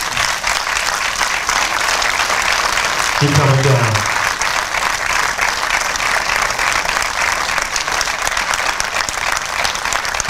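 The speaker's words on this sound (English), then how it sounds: "Please give these young men a round of applause." Sustained audience applause honoring young men at a community awards ceremony, a steady dense clapping wash throughout, with a voice briefly speaking over it.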